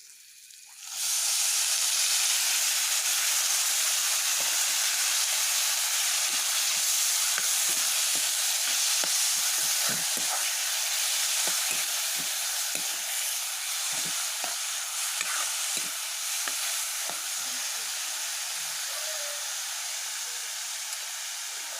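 Food poured into a hot pan erupts into a loud, sustained sizzle that continues for the full stretch with light scraping and stirring crackles, close by and with no talking.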